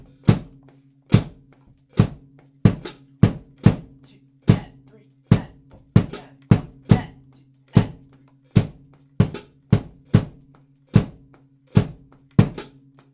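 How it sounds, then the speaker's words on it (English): A drum kit plays a go-go groove bass drum pattern, with a steady stream of sharp, evenly spaced hits over a sustained low hum, loud and close with no talking. "The next thing we want to do is play the bass drum pattern."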